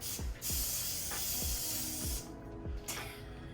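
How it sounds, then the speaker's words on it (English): A Lysol aerosol disinfectant can hisses in several close, steady bursts, with short pauses between sprays. "I wipe everything down with my Lysol spray."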